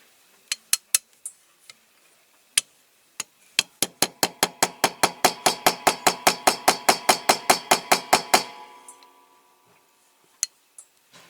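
A small hammer taps on a die-cast Dinky toy transporter, giving sharp metallic clinks: a few scattered taps, then a fast, steady run of about two dozen ringing strikes, followed by a couple of isolated taps, close and with no talk.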